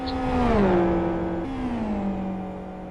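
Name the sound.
XRR race car engine in a Gran Turismo video game race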